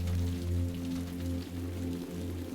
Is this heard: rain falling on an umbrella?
yes